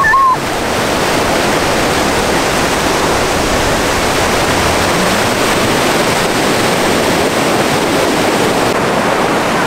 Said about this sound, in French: Il y a des belles vagues les amis, regardez celle-là là, qui arrive.